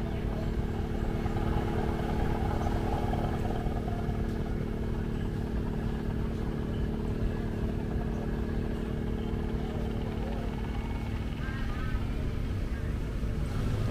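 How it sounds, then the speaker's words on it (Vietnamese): A large cargo boat chugs along a Mekong Delta river during the flood season, its engine giving a steady, loud droning rumble with a faint clatter, continuous and unbroken from start to finish. "Bên mảnh cũng có một chiếc ghe lớn đang vận chuyển hàng hóa lên nè."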